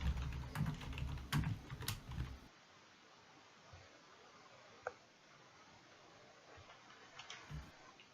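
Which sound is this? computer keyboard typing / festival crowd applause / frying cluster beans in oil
computer keyboard typing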